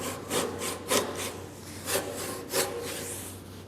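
A hand saw cuts through a wooden workbench top slab in slow, rhythmic strokes, each a rasping push close by, about five strokes with short pauses between them.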